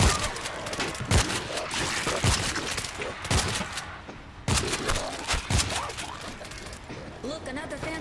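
Gunfire in the zombie shooter World War Z, in an underground tunnel level: repeated sharp, loud bursts of shots recurring every second or so, with a rumbling background and voices in between.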